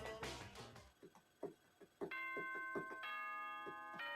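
Danganronpa announcement chime plays as a bright descending-then-rising bell-like tone sequence, ringing clearly after a few soft opening sounds, with sustained tones toward the end and no talking.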